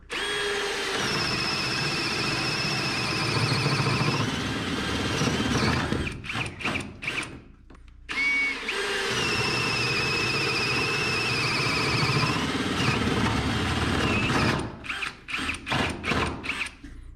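A cordless power drill runs at high speed while boring through wood framing for bathroom wiring, a loud steady whine in two long bursts, each trailing off into short stuttering pulses, with no talking.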